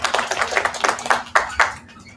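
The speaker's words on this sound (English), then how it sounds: "Nice applause, y'all, please." A small group applauds at an industry showcase, with a few scattered, uneven claps that are close and moderately loud. They fade out within about two seconds.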